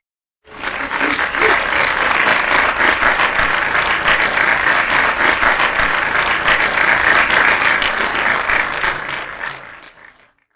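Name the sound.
applause track played for outstanding delegates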